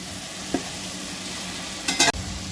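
Chopped capsicum, chili, curry leaves and onion fry in a pan with a constant close sizzle, broken by a light spatula scrape and then a brief louder burst of stirring near the end.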